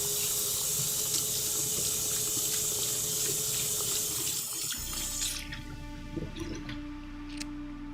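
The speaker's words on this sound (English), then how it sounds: "While it does that, I'm gonna go rinse this out." A tap runs steadily at a sink while something is rinsed under it, a loud continuous water rush that cuts off partway, leaving a quieter background hum with faint clinks.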